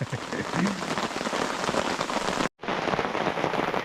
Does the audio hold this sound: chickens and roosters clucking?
no